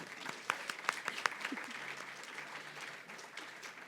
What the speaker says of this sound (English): So let's give her a round of applause again.